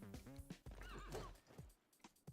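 A horse unit in Civilization VI neighs loudly with a shrill whinny, then hooves clip-clop sharply in quick succession, close and clear with no talk.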